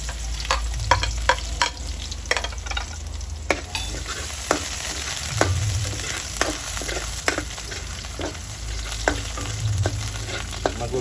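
Garlic frying in a pan for spaghetti sauce: steady close sizzle with repeated sharp scrapes and taps of stirring throughout, no voices.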